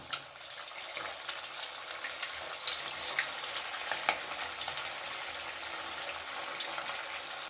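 Cheese balls deep-fry in hot oil, a fine, steady bubbling sizzle heard close but fairly quiet, with a few small clinks and pops from the pan.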